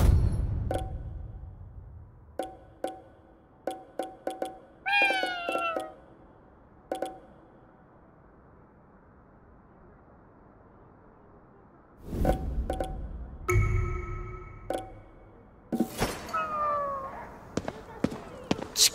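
A cat meows in the video game Ghostwire: Tokyo, with a few short rising calls standing out amid sparse clicks and game effects over a quiet, muffled background.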